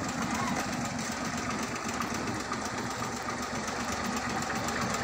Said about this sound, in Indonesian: nah ini kita lihat dekat dengar suaranya mesinnya